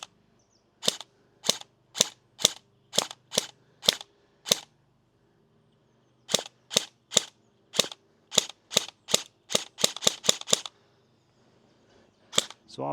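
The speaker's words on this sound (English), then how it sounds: "we're going to shoot the tube covering the lens" Airsoft gun fired point blank at the protective tube over a camera lens, a series of sharp snapping shots in quick regular bursts with a pause midway and a rapid cluster near the end, loud and close.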